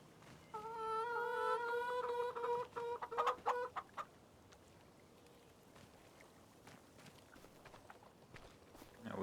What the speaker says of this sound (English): Let's go with 10 chickens.